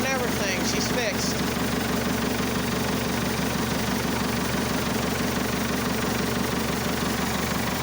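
A 1964 Massey Ferguson Super 90 diesel tractor with a Perkins engine idles with a steady, loud, rhythmic low chugging knock, close and continuous throughout.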